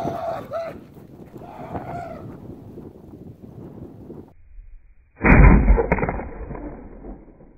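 A 1-inch pipe cannon firing a marble, one sharp loud boom followed by a ringing decay, preceded by a few seconds of outdoor ambience and voices.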